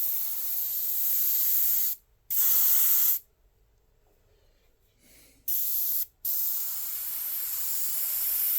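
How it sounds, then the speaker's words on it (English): An airbrush sprays paint with no reducer added onto a T-shirt, giving long steady hisses broken by a few brief pauses and one quieter stretch, close and loud, with no talking. "I'm just going to see how this sprays without putting any reducer in there"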